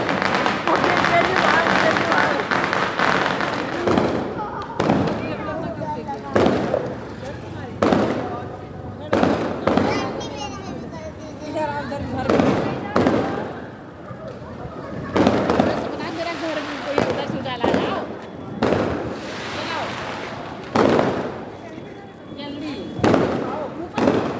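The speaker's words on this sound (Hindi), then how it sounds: "सार्थक देखिए कितने बड़े बड़े पटाखे छुड़ा रहा है" Diwali firecrackers burst outdoors in a string of sharp, loud cracks and pops, some close and some farther off, spaced irregularly, with people talking between the blasts.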